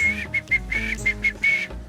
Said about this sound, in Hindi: अब बजाओ सीटी